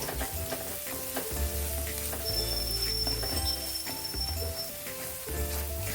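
Masala spiced with Kashmiri red chilli powder frying in oil for a Bengali puti fish curry, a steady close sizzle with a spoon scraping and stirring through it, alone.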